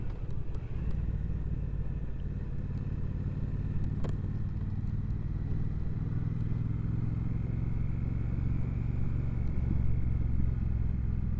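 A Triumph Speedmaster 1200 motorcycle, a 2024 model, rides in gear down country lanes, its engine giving a steady, close, low rumble with a faint clatter that holds an even level throughout.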